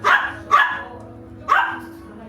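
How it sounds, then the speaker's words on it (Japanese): Small dogs, Chihuahuas and a Pomeranian, bark sharply three times in a small animal cafe, close and loud, with a faint hum of the indoor room behind. "その子たちとワンちゃんエリアのポメちゃんが結構吠えてて"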